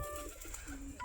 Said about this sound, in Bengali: এই যে আমাদের দেশি গিরিবাজ কবুতর, আমাদের কবুতরগুলো খাবার খাচ্ছে, পানি খাচ্ছে।